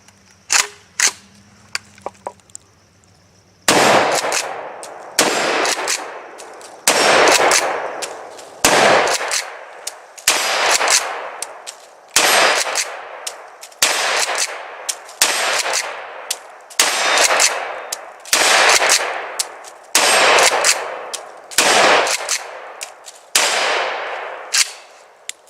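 Remington 7615 Police pump-action rifle, AR-15 magazine compatible, fired outdoors at about 35 yards; roughly a dozen loud, sharp close shots at steady intervals of about two seconds, each followed by a short decay.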